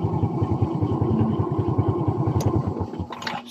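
A Suzuki Smash 115 motorcycle engine idles in a steady, rapid thumping rhythm that thins and cuts out after about three seconds when the fuse is pulled, leaving a brief faint click.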